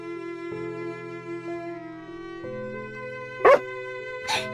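A dog barks in the game Day By Day, two short sharp barks near the end over a soft, sustained musical backdrop, close and distinct with no talking.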